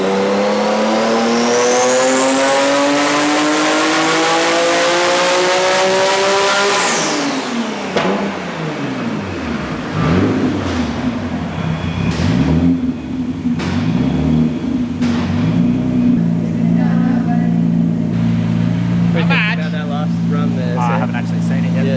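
A Nissan R33 GT-R with a big RB engine revs hard on a dyno, rising in a long loud pull for about seven seconds before dropping off and settling into a steady rumbling idle with intermittent revs.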